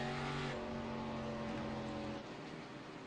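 Stock cars in a Midwest Winston Cup Series race circle the track behind the pace car, their engines a steady, loud, droning rumble with tonal hum that eases slightly partway through.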